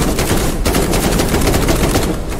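Sustained rapid gunfire from an Uncharted-style action video game, a loud, dense automatic barrage of shots rattling continuously throughout with no speech.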